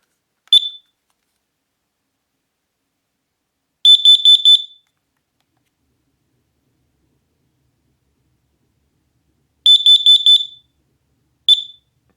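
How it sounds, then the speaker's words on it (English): X-Sense carbon monoxide alarm sounding in sharp, high-pitched beep bursts: a single chirp, a rapid cluster of four, another cluster of four, then one more chirp, separated by long silences, loud and alone. "this X-Sense Carbon Monoxide"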